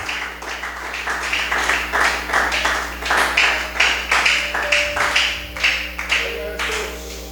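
A congregation claps together in a steady, rhythmic beat at a church service, the even pulses going on for several seconds, loud and close, as a faint tone sustains underneath.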